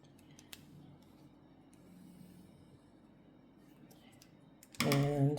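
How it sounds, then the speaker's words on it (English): Scissors snip white yarn during a crochet project, giving a few faint, sharp clicks over a quiet room before a louder burst of voice-like sound at the end. "You can now cut the white yarn"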